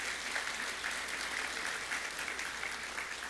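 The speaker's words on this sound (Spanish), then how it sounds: "Un aplauso, por favor, para la señora Janet Reategui." Applause at a Peruvian municipal recognition ceremony for a district mayor coming to the stage: dense, continuous clapping from a crowd, fairly distant and even, with no voices.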